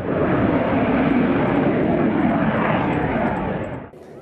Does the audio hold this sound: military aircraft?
yes